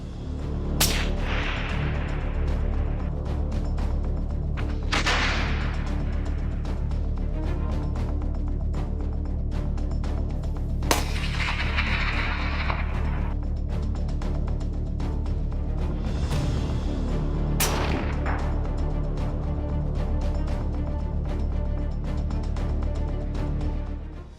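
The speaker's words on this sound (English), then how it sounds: "With the ability to shoot accurately and not be much affected by wind, this gun helps hunters achieve many successful shots." Rifle gunshots during a wild boar hunt: about four sharp, loud reports spaced several seconds apart, each with a brief echoing tail, over a steady, heavy background rumble.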